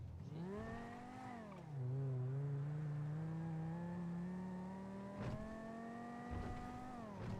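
A car in a driving video game, with a steady engine drone whose pitch dips as the car slides into a drift, then holds and climbs as it powers out, plus a couple of brief knocks.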